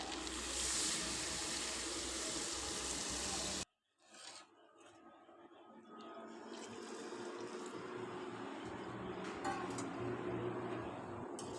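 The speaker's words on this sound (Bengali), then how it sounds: "মাংস কষানো হয়ে গেছে, এখন পরিমাণ মতো জল দিয়ে দিন।" Water pours steadily and loudly into a cooking pot of browned chicken curry for a few seconds, then cuts off, leaving quieter bubbling and clatter.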